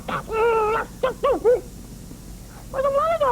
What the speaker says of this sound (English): I like my dog to run around the backyard all nice and free and yelping and having fun